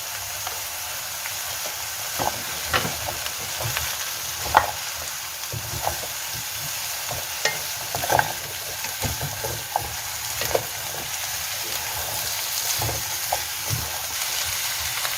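Vegetables for pumpkin soup fry in butter with a continuous close sizzle, while a spoon scrapes and knocks against the pan in irregular bursts throughout.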